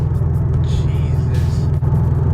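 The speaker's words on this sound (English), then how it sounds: "But yeah, the car's running." A Subaru BRZ / Scion FR-S / Toyota 86 engine idles after a new Exedy clutch install, a loud steady low rumble close by under someone talking.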